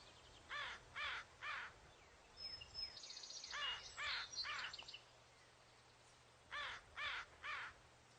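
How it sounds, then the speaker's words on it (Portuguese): American crows cawing together in a flock: loud, harsh calls in quick bursts of three, a tight cluster of overlapping caws in the middle, then another set of three near the end. "Corvos que gritam juntos, andam juntos."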